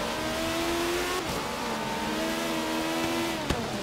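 A race car in Forza Horizon 3 accelerating gently out of a tight corner with wheelspin, its engine droning steadily and rising in pitch, close and continuous with a brief tire chirp near the end.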